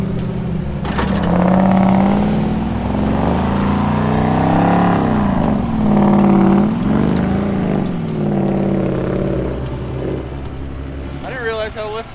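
A lifted off-road truck stuck in four-low drones and revs in rising and falling waves, straining steadily for several seconds before easing off, with a brief voice at the end.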